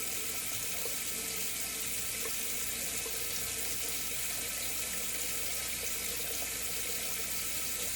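Tap water runs steadily into a sink while a shaving brush is rinsed out, a constant close rushing hiss lasting the whole time without a break.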